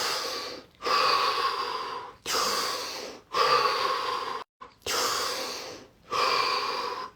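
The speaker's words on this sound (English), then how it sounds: "So take 3 more deep breaths, followed by 15 seconds of stillness and silence." Deep breaths during a guided breathing session come close and fairly soft: about six long, airy breaths drawn in a slow, even rhythm, each followed by a short pause, with no talking.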